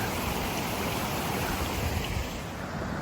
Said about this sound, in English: we've got water being diverted back out to the creek